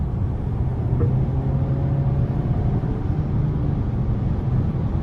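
A 2022 Volkswagen Arteon SEL R-Line with a 300 hp 2.0-litre turbo four-cylinder pulls under throttle in sport mode, giving a steady, muffled engine drone heard from inside the cabin with road noise.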